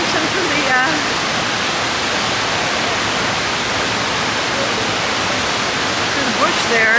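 Minnehaha Falls waterfall pours in a steady, loud broadband rush that fills the whole stretch, with brief voices faintly audible under the roar near the start and end.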